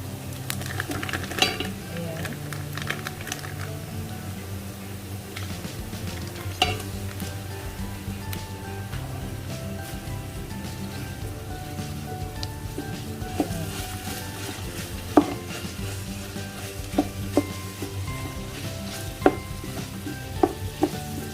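Ground beef sizzles and fries in a pan while being stirred, giving a steady crackle with occasional clinks of the utensil against the pan and no talk.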